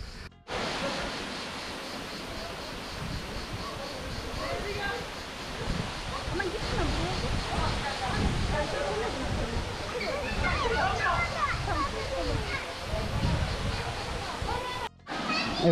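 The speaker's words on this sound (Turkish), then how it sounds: "Bakın tepelerden bile sular akıyor buraya." Water pours down at the Sabun waterfall in Düziçi, Osmaniye, a dense continuous roar of falling and flowing water heard close, with people talking faintly beneath it.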